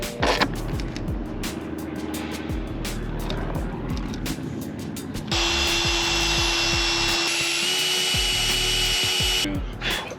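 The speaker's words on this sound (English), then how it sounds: "We are drilling out the bolt that has stripped." A power drill bores out a stripped bolt on a roof rack bracket of a Toyota TRD, grinding loudly and steadily with bursts of clatter and rubbing, then settling into a continuous high whine near the mic.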